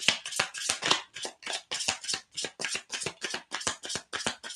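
Repeated riffling bursts of cards being shuffled, close and crisp, in a quick regular rhythm of about a dozen strokes with short gaps.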